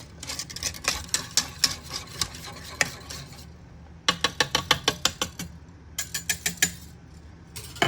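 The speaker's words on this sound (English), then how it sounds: "I'm gonna give it one good whisk." A whisk clinks and scrapes rhythmically through warm milk for homemade Greek yogurt in a pot, quick metallic strokes in two close bursts separated by a short pause.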